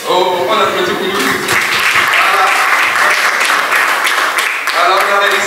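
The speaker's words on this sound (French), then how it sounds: "on applaudit pour nous" An audience at a seminar applauds, loud dense clapping that fills the whole stretch, with voices talking over it at the start and end.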